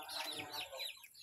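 Chickens cluck and chatter close by on a farm, a dense run of overlapping bird calls with no clear pauses that eases off toward the end.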